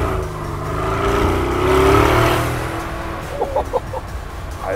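A tuned car accelerates hard with a rising engine roar that swells to a loud peak mid-clip and then eases off, followed by a few brief sharp chirps near the end, recorded from inside or close by with no talking.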